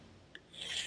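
Sandpaper rasps across the wood of a wine rack end table in a brief, close, smooth stroke, a soft hissing scrape with no talking.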